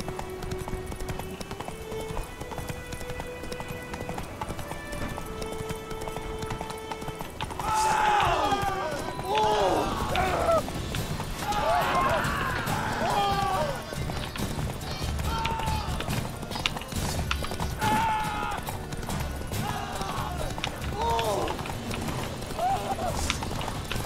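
Hooves of the horse Roach clatter in a steady galloping clip-clop within a video game, running continuously under music and sporadic talk.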